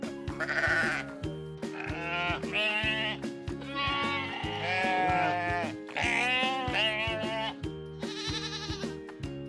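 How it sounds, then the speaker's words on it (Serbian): Farm sheep bleat several times in quavering bursts spread across the stretch, each clear and close, layered over a bouncy children's music backing. "Ovca bleji."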